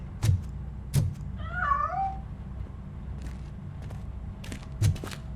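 One wavering cat meow from Robocop: Rogue City, moderately close, set among a few soft knocks and thuds over a quiet low background.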